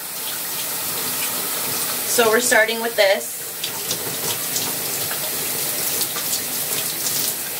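A shower runs steadily in a bathroom, spraying water in a continuous hiss throughout, with a short spoken phrase near the start over the flow.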